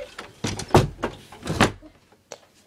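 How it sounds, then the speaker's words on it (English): A door is shut in a zombie survival game, heard as a quick series of thumping, clattering knocks followed by a brief lighter knock near the end. "Shut the door."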